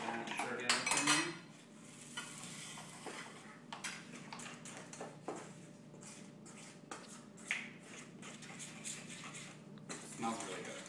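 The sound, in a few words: stirring lemon cupcake batter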